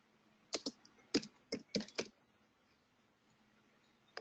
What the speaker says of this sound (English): you could put in, start typing potassium.